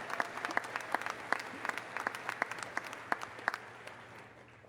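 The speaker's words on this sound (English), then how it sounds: "So let's give them another round of applause." Applause for graduates at a university commencement ceremony: sustained clapping from a large audience, a dense background wash with individual claps popping out near the microphone.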